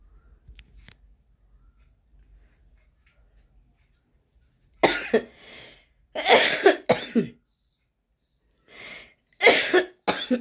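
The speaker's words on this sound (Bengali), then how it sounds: "জলটা খেতে হবে, কাশি হচ্ছে।" A person coughing in bursts after a quiet stretch, several loud, close, harsh coughs with pauses between them.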